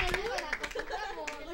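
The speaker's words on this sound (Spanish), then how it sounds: "Muy bien, apláudanle." Children clap at a school event in a broadcast singing and speech program, scattered and uneven hand claps mixed with chatter and voices, close and lively.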